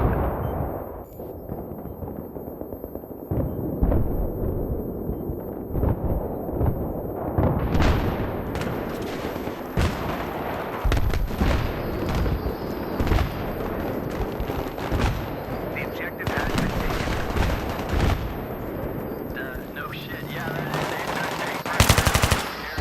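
Dense, loud gunfire in the Battlefield 3 Strike at Karkand multiplayer map, with continuous automatic bursts, heavy booming shots and explosions layered over a constant battle din throughout.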